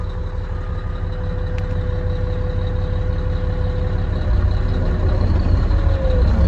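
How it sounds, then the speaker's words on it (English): A bulldozer in low idle rolls backward in reverse, its loud, steady diesel rumble close and continuous, with a faint tonal whine and a brief higher squeal near the end. "So put it in reverse and let off the brake."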